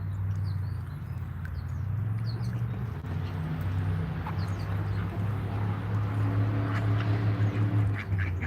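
Noisy ducks quacking outdoors near a street protest, repeated honking calls scattered through a steady low background rumble of traffic and crowd, fairly close and prominent.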